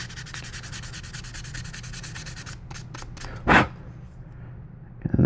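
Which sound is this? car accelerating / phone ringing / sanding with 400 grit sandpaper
sanding with 400 grit sandpaper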